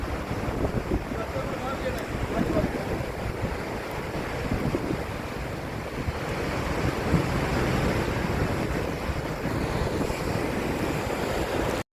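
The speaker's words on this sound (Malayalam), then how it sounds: "നല്ല കാറ്റൊക്കെ ഉണ്ട് ഇവിടെ," Strong wind buffets the microphone in a steady roar, with sea waves breaking continuously underneath at a Trivandrum beach on a rainy day. The noise stays dense and loud throughout, with no pauses.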